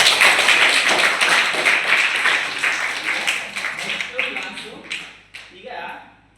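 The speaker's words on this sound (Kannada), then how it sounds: "ಜೋರ ಚಪ್ಪಾಳೆ ಹೊಡೀರಿ" Loud applause from a seated audience at a Ramayana religious discourse, dense rapid clapping that gradually thins and fades over several seconds.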